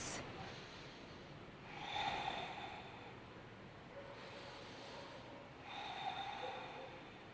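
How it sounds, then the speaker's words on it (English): Slow, deep breathing through the nose during a vinyasa yoga session, with two long, soft airy inhale-exhale cycles, close and quiet with no talking. "Take nice, long, deep breaths."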